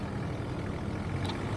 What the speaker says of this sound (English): Manisha is kindly driving my Jeep up, so I don't have to walk down the hill to get it